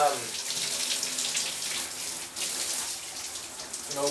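Hot water runs steadily from a shower, a continuous hiss and spatter that stays close and loud throughout with no pauses or talk.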